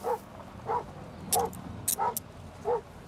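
Police K-9 dog barking in a series of five sharp barks spaced roughly evenly, fairly close and moderately loud over a low background rumble, with no talk.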